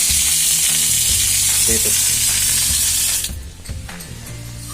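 Water rushes from a PDAM mains tap in a housing estate as a loud, steady hiss that drops and thins after a few seconds; a brief spoken word is heard near the end.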